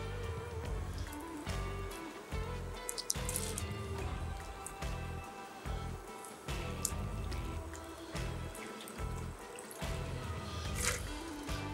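Watery splashes and drips as cooked cabbage patties are moved into an ice water bath, with clinks and sloshing under steady background music.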